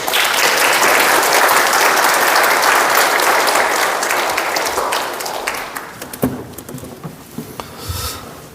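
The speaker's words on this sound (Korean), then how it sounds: "이 시간 나오실 테니 큰 박수로 함께 환영했으면 좋겠습니다." Large audience applause welcoming a speaker, a dense sustained wash of clapping that gradually thins out, leaving scattered individual claps near the end.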